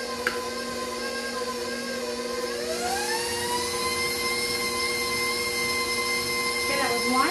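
An electric mixer whirs steadily while stirring cake batter for an old-fashioned brown cake as eggs are added, its pitch dipping and climbing back as the load changes, a constant close motor whine.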